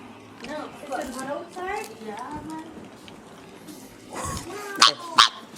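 A dog barks and whimpers in a few short yips close by, mixed in among casual talk from several people during a summer morning outing.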